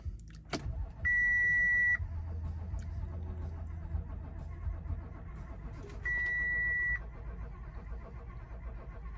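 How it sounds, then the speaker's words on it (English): An Audi Q7 with a fuel pressure regulator fault cranks to start, a steady low mechanical churn with two bursts of high electronic chime tones. "let's give it a crank and see what happens."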